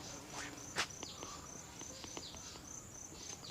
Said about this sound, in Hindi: ये देखिए, इस पे आपको पूरा मधुमक्खी आवाज़ भी आ रही है।